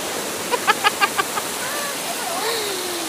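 Rushing water at a farm hotel, a steady loud wash like a waterfall or stream, with a brief rapid series of clicks and faint bird-like chirps over it.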